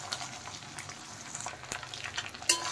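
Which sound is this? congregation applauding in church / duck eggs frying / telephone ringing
duck eggs frying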